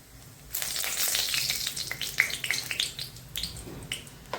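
Cumin seeds hit hot oil in a pan while making a spicy matar paneer bhaji, bursting into a loud, bright, crackling sizzle after a brief quiet start, with scattered pops and spits near the microphone.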